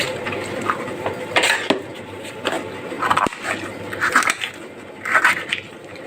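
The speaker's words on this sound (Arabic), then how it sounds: "هبدا اقطع الفلفل" Knife chopping bell pepper into thick, large chunks on a cutting board for a moussaka-style eggplant salad, with irregular crisp knocks and crunchy slices spread across the stretch, fairly close and clear, no talking.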